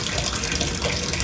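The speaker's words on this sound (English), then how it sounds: "This is the faucet from the shower." Shower faucet running in a hotel bathroom, a steady loud hiss of spraying water with no pauses or voices.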